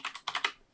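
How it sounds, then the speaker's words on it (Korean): Quick bursts of keystrokes on a computer keyboard while text is entered in a motion-graphics program, about five close, crisp clicks in a short uneven run before trailing off. "여기서 이제 내가 원하는 타이핑을 칠 수가 있어요"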